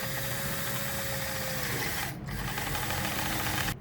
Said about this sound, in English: Now I guess we can drill 2 holes.